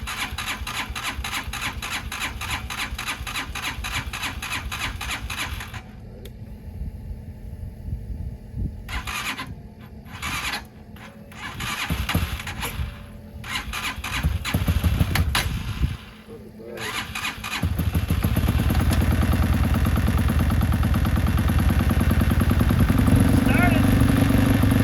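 A Hawk DLX motorcycle engine cranks in 10°F (-12°C) cold in several stuttering bursts separated by pauses, then catches and settles into steady running for the final stretch.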